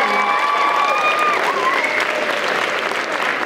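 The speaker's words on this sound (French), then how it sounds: "Je pense qu'on peut applaudir vraiment très fort les participants." An audience at a cultural event applauds the participants with dense, steady clapping that fills the room, loud and sustained, with faint cheering and voices mixed in.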